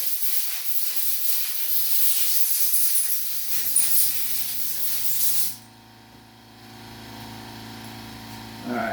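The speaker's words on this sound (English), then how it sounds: "a little spray off with some air" A loud sustained hiss of compressed air spraying onto a Losi 3.4 nitro RC engine part for about five seconds, then cutting off to leave a low mechanical hum.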